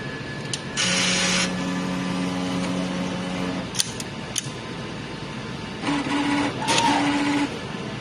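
A sublimation printer's mechanism whirs and hums in steady motorized passes during a print head cleaning cycle, with sustained tonal drones, brief clicks, and a second burst of motor activity near the end.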